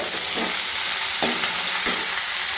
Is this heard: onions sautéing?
yes